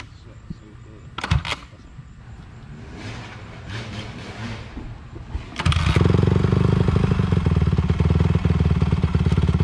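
Dirt bike engine idles unevenly while a person learns to ride, then revs up hard and holds a loud, close roar. Brief knocks come early, and people talk throughout.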